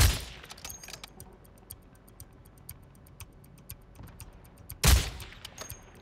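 Gunshots from a video game, one sharp loud shot at the very start and another near the end, with rapid faint clicking and ticking filling the stretch between them and no talk.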